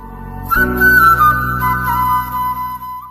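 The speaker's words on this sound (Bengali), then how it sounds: "এরপর 3টে হুইসেল দিয়ে আমি খোসাগুলোকে সেদ্ধ করব" A pressure cooker boiling bottle gourd peels lets out a loud, shrill whistle that starts abruptly and holds steady for several seconds.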